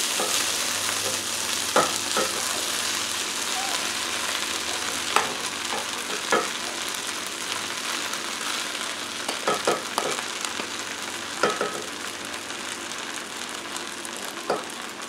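Rice being stir-fried in a pan for a Chinese-style meal: a steady, close sizzle with scattered clinks and scrapes of the utensil against the pan, and no talking.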